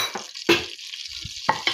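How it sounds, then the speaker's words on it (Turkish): A spoon stirring and scraping flour in hot oil in a pot for a chicken soup, with soft sizzling and a few sharp metallic clinks, close by. "Unum pembeleşene kadar karıştırmaya devam edeceğim."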